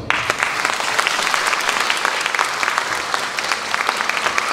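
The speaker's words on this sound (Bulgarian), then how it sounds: "аплодисменти" Lively, dense applause fills a hall at a folk choir's seventieth anniversary concert, with many hands clapping at close range and a few sharper individual claps standing out.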